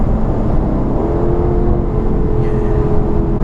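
A Porsche Cayman GT4 in track mode accelerates with the pedal pressed fully down. The engine note is a loud, steady roar close by, with a tone that climbs and holds as the revs rise. No one talks.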